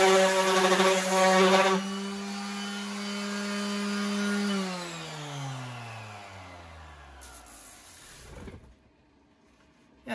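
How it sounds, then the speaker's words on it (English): A power sander on a DIY mahogany boat companionway, starting loud and close with a steady motor whine that drops in pitch as it winds down, then trails off into quieter rustling before a brief knock at the end. "That needs to be sanded now,"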